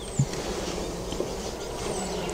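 Honey bees buzz at an apiary hive, a steady, moderately loud low drone that fills the whole stretch with no voices.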